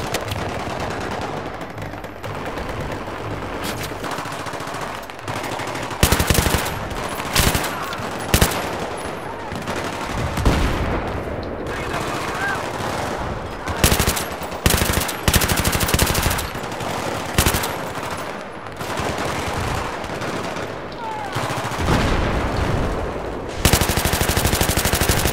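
A light machine gun fires in Battlefield 3 in long, loud, rapid bursts broken by short gaps, with other gunfire and voices around it.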